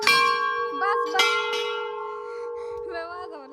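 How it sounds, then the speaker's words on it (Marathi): Temple bells ring inside a Hindu temple, a bright metallic clang followed by further strikes, the tones ringing out and decaying with long sustained overtones, close and clear. "याने आख्या मंदिराच्या घंट्या वाजवल्या पाया पडायच्या आधीच"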